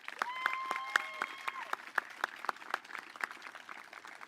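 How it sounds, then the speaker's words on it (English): Audience applause at a Wellington Class of 2021 commencement ceremony, a crowd clapping steadily with sharp individual claps and a faint tone or whistle near the start. "Let's give them a round of applause."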